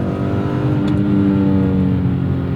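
A 2001 BMW M3 E46 pulls hard under load, its engine note loud and steady from inside the car, rising smoothly with a continuous strained roar.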